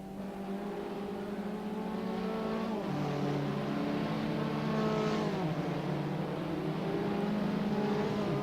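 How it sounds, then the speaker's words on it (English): An Abarth race car with a throaty Akrapovic exhaust, heard in Assetto Corsa at Brands Hatch Indy, drones steadily at high revs, with engine tones rising and dipping through gear changes and corners, continuous and loud with no talk. "Jamid closing right up to Popcorn's throaty Akrapovic exhaust"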